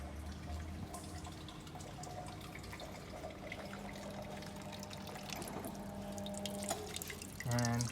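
Water trickles and drips steadily from the drain of a rainfall simulator, with faint background voices, and a louder splashing burst near the end.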